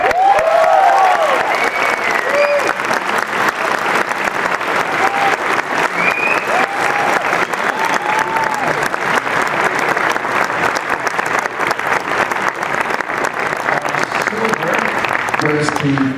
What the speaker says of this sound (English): You're about to hear the applause come in.